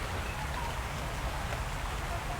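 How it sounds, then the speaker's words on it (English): Steady rain patters densely on the ground and foliage in an outdoor botanical garden, a constant close wash of drops that holds loud throughout. "Just as I decide that the rain has stopped enough for me to put the umbrella down, it gets a bit heavier again."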